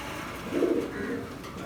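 Pigeons coo inside a loft on a pigeon farm, a soft, low, rounded warble rising briefly near the middle over quiet background rustle.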